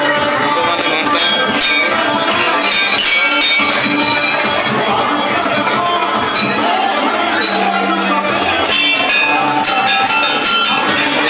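Temple bells clang repeatedly at a Shiva temple on Shivaratri, loud and continuous amid a dense crowd murmur and voices.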